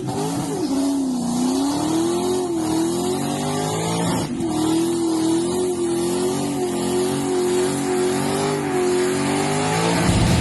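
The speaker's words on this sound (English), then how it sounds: "Got the little burnout pad going." A car does a burnout on a burnout pad, the engine revving hard and holding high with wavering pitch, tires squealing underneath, loud and close throughout.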